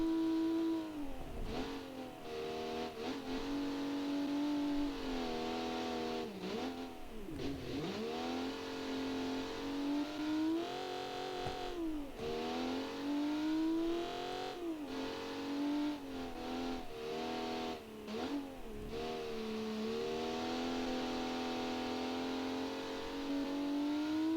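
Jidosha rally car in Classic Rally with a loud, buzzy engine revving up and down through short gears, pitch climbing sharply then dropping at each shift, continuous and close throughout.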